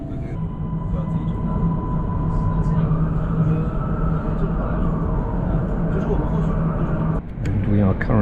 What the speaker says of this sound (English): And we are currently overtaking a high-speed train.